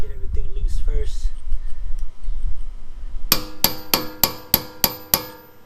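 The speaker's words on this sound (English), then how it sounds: "So you gotta tap this out. There's a little tap in here. Tap that back out." A hammer taps out the lower ball joint on an Integra, six sharp metallic strikes in an even rhythm after some quieter shuffling and a brief voice.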